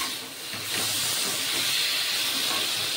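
Sliced tomato dropped into hot spiced masala sizzles in a pan, a steady loud hiss that swells after the first moment and holds without a break.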